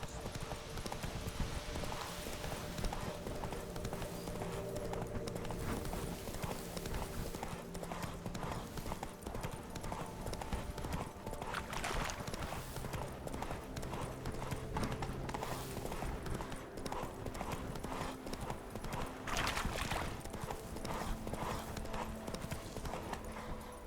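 Horse hooves clip-clop in a steady galloping rhythm throughout The Witcher 3: Blood and Wine, set against a continuous game soundscape with music, close and fairly loud, with a brief whinny-like note.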